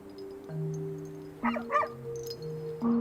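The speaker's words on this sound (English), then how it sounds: "we don't need special equipment to hear dogs barking" Two short barks from a dog at moderate distance, over a steady low hum, with a quiet whimper-like sound following.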